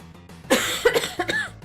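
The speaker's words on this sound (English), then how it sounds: "And I'm sorry if I cough." A single close cough bursts out, followed by a couple of rougher hacking coughs and throat clearing, loud against a quiet background.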